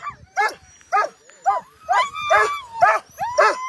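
A fired-up sled dog team barks and yips at a race checkpoint on the Copper Basin 300 in Alaska, with about eight sharp, close, rhythmic barks that have whiny edges.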